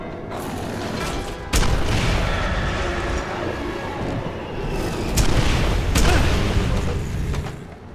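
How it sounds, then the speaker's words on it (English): Rocket launcher blasts in the shooter game Quake 4, heavy booming explosions landing in a dense stretch of battle noise with clanking mechanical sounds, several sharp impacts spread across the scene. "Maybe I should rely on rockets for a bit."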